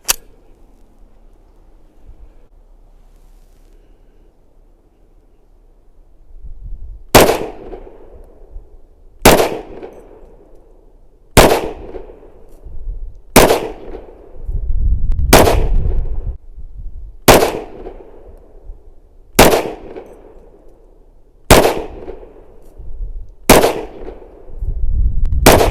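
A SIG Sauer P320 XTEN 10mm pistol fires ten sharp, loud shots at roughly two-second intervals after several seconds of quiet, each crack followed by a brief echoing decay.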